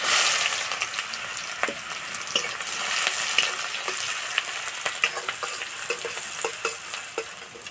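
Chopped onions fry in oil seasoned with panch phoron, bay leaves, cardamom and cinnamon for a fish-roe kofta curry, a steady close sizzle broken by scattered clicks and scrapes of stirring, with no voices.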